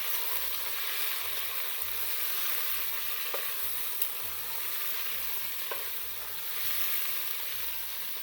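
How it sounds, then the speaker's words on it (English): Beef frying with golden-browned onions in a pan for an Anglo-Indian dry fry, a steady broad sizzle with intermittent stirring scrapes and a faint low rhythmic hum underneath, no voices. "Now let the beef fry now in the onion for 5 minutes."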